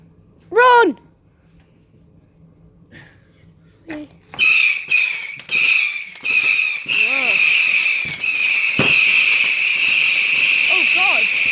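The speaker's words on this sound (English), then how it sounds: "It's crazy how much fireworks go off there." Bonfire Night fireworks outdoors: a whistling rocket rises, then a dense run of loud bangs and crackles leads into a long sustained hissing fizz with more whistles near the end, close and loud.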